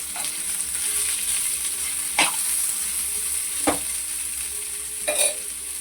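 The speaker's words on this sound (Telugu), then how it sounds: "మనము ఇప్పుడు కొబ్బరి వేసుకుందాం. ఇది ఎక్కువగా వేగక్కర్లేదండి, కొంచెం లైట్గా" Grated coconut frying lightly with ridge gourd peel in a pan, a low steady sizzle broken by three spaced scrapes of a spatula, close up with no talking.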